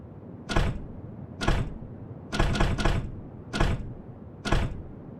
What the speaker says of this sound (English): a loud thud shook the door